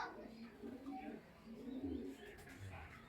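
Racer pigeons give soft, low coos a few times, close by but quiet, with faint chirps in the background.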